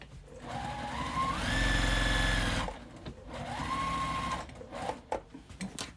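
Sewing machine quilting fabric for a quilted jacket made from Tula Pink fat quarters, running in two steady bursts with rising and falling motor whine and a brief pause between them, close and alone.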